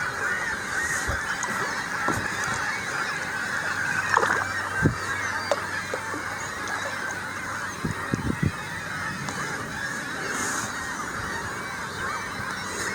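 Seagulls call repeatedly over the Kichi Sibi River, heard from a paddled boat: a steady chorus of honking cries, some nearer and sharper, over a soft wash of water and wind, with no talking.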